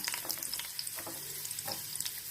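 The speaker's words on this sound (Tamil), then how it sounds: "கொஞ்சம் வந்து நல்லா வதக்கணும் கொஞ்சம் ப்ரௌனிஷாக ஆகிற வரைக்கும் கொஞ்சம் வதக்கிக்கோங்க" Coconut pieces frying in ghee for a Kerala-style lentil payasam, giving a continuous close crackling sizzle with light stirring scrapes.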